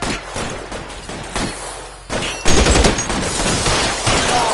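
Gunfire in a PS4 shooter game: continuous distant rattling bursts and booms layered into a dense, loud battle din that swells partway through and stays heavy to the end.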